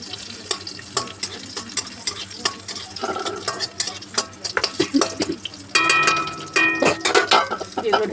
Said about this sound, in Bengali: রসুন ফোড়ন দিলাম, ভালো করে একটুখানি ভেজে নিই লঙ্কাগুলো।